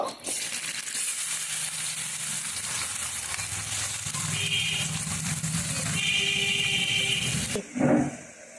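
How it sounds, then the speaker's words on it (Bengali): Chopped tomato and onion fry in oil in a wok for a curry, giving a steady, close broadband sizzle that swells briefly near the end with a clatter of stirring. "এখানে আমি টমেটো আর পেঁয়াজ কুচি নিয়েছি ভেজে নেব"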